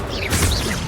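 A Bombarda spell cast in Hogwarts Legacy bursts with a loud, brief crash and whoosh, swelling to a peak midway and then trailing off, with no talk over it.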